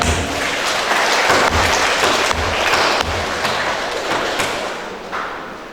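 A congregation at a Sunday Papuan ethnic Catholic mass applauds together, a dense sustained wash of clapping with a few heavier thumps that thins toward the end.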